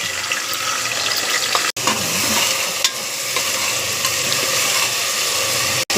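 Green chillies, curry leaves and onions fry in hot oil inside a pressure cooker, giving a loud, continuous hiss and crackle with a couple of brief breaks, no voices.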